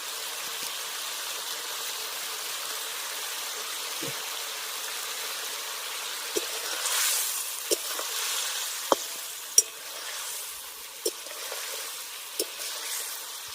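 Vegetarian banana flower dhoka curry with garam masala bubbling gently in a pan: a steady soft sizzle with scattered pops and light clicks, close up, with no talk.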